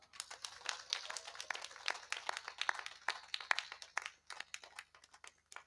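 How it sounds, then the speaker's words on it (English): An audience at the Mbarara University of Science and Technology 27th graduation ceremony claps for the graduates. The scattered clapping sounds somewhat distant and fairly faint, then thins out toward the end. "our graduates deserve a much more thunderous hand clap"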